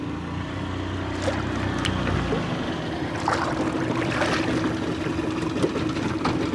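A 1987 40 hp Johnson outboard motor runs steadily with a low rumble, close by, with some clanks and water splashes on top; it will not idle by itself.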